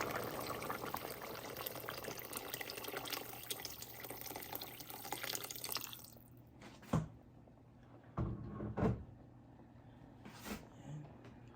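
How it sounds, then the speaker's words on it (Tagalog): Water pours steadily into a cooking pot for about six seconds, a broad rushing splash that stops abruptly, followed by a few faint clinks and soft handling sounds in a quiet kitchen. "Dagdagan natin ng tubig."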